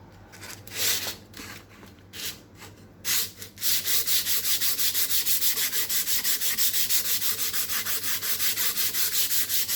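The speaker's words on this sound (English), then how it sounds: "with the block you made earlier, cup over it," Sandpaper wrapped on a block rubbed along the grain of a wooden tissue box, a few scattered strokes then a steady rhythmic back-and-forth scratching, close and clear with no talk.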